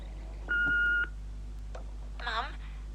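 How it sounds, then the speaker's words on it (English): A telephone answering machine sounds a long steady beep, then a short click and a brief warbling electronic tone before the message plays, over a low mains hum. "there's a message on the answer phone"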